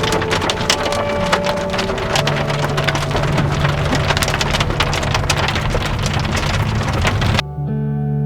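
Heavy rain pours steadily onto surfaces during a mountain storm near Colorado Springs, a dense close patter with a low rumble beneath, cutting off abruptly near the end.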